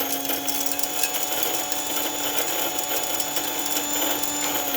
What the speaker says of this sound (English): So we're just going to grind all the coffee out of it.